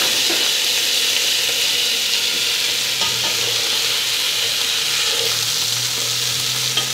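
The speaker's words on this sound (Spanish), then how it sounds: "Es que el aceite esté caliente, vamos a vertir el arroz." Rice poured into hot oil in a saucepan, frying: a dense, even sizzle and hiss that holds steady throughout, close and fairly loud, with faint scraping underneath and no talking.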